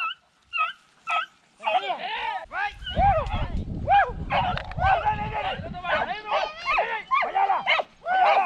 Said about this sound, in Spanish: Mire, ese que ladra ahí, socio.